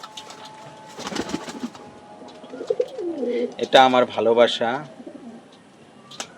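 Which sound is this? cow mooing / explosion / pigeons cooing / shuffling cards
pigeons cooing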